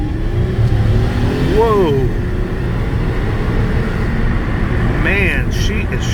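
A 2007 Ford Fusion SEL V6 with around 300,000 miles accelerates on a test drive, its engine note rising and pulling steadily under constant road and cabin noise, while a voice exclaims briefly.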